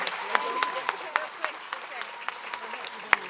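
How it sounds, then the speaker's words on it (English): Scattered clapping from a small audience at an awards ceremony, individual claps sharp and distinct, a sparse, uneven rhythm of hands rather than a dense roar, honoring a graduating writing academy class. "Please give a round of applause for the Writing Academy 2 graduating class."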